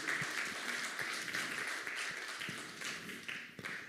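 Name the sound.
church congregation applause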